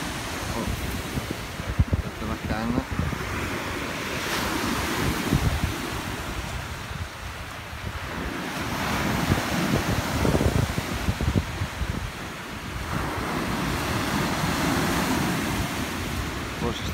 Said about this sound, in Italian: Il mare è veramente, veramente bello.